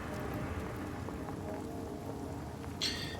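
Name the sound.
rain falling in the video game Divinity: Original Sin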